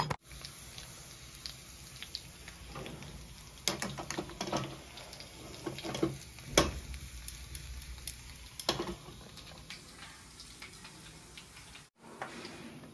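Onions sizzle and crackle in a pan for tempering, a soft steady fry with scattered sharp pops and stirring clicks, fairly quiet and with no talk.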